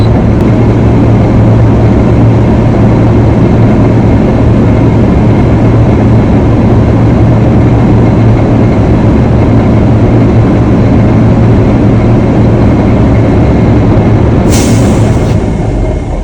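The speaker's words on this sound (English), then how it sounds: "I'm listening for my governor to spit within the range of 120 to 140." A heavy truck engine idles loudly and steadily during a pre-trip inspection; near the end the air brake governor spits, a brief, sharp burst of air hissing over the drone.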